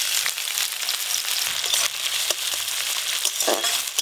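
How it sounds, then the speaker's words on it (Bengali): Chopped onion sizzles and crackles steadily in hot mustard oil, close and continuous, with faint stirring clicks and no talking. "সর্ষের তেল, তেল গরম হয়ে গেছে, এবার পেঁয়াজ কুচি দিয়ে দেবো।"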